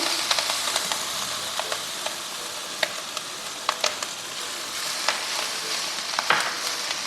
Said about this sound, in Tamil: இப்போ நாம் ஃபைனல் ஸ்டெப்பாக துருகி வச்சுருக்கிற தேங்காவை இது கூட சேர்த்துக்க போகிறோம்